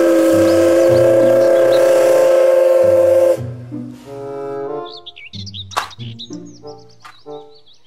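A toy Thomas train sounds a loud, steady steam-whistle tone for about three seconds, followed by a bouncy electronic tune of short chirping notes.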